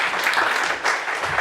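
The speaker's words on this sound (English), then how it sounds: "Let's give a round of applause to Yosef Green" Audience applause at a CHAZAQ event, a dense, steady clapping from a crowd filling the whole short stretch.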